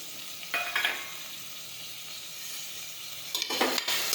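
Chopped tomatoes tip into a pan of cooking ridge gourd and get stirred, giving a soft steady sizzle with two brief scraping bursts of stirring near the start and end.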